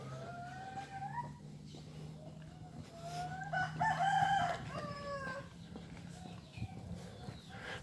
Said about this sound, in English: That cock be hungry.